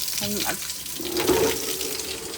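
Tap water runs steadily into a mop bucket, a continuous splashing fill heard close by with a brief tonal squeak near the start.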